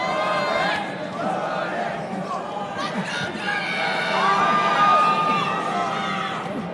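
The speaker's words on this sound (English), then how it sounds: "Crowd again chanting for Jordan." An MMA fight crowd chants and cheers in the arena, a broad roar swelling toward the end, while a commentator speaks over it.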